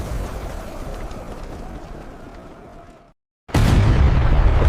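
A dense, roaring blast rumbles for a few seconds, cuts to brief silence, then a second loud boom erupts and sustains.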